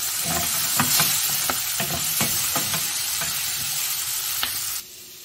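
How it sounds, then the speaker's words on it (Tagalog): Food is double fried in hot oil, giving a loud, dense, continuous sizzle with sharp crackles and pops close by, which drops off abruptly near the end. "Do-double fry ko na lang to para mas malumutong."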